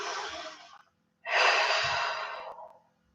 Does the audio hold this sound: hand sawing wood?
no